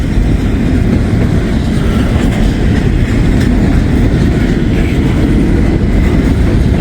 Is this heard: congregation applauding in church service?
no